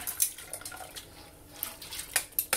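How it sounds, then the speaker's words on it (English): Water splashes and drips during yarn dyeing, with scattered light splashes close by over a quiet background and no speech. "look out as I throw water everywhere"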